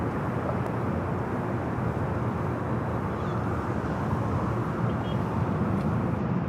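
A Southwest airliner takes off from runway 24 at LAX, heard as a steady, broad roar of jet engines that holds at an even level throughout, with no voices.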